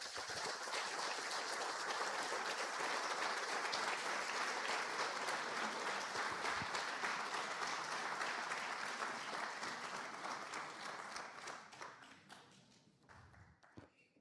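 Sustained, dense audience applause following a talk about Jesus, loud and steady at first, then gradually thinning out and fading.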